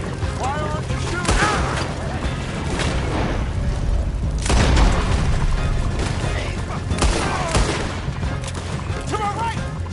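Red Dead Redemption 2 gunfight during a chase, with repeated heavy gunshots and booming volleys bursting in clusters, loud and close, mixed with shouting voices.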